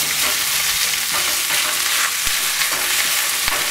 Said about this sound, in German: Ein bisschen anbraten.